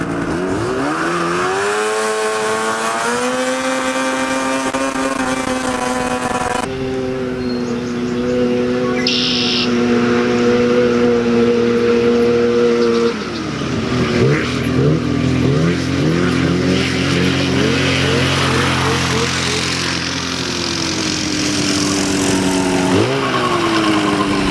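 Go-kart with a swapped snowmobile engine on a test drive, a loud, close, buzzing engine note that climbs in pitch as it accelerates, drops back, then revs up again in repeated surges.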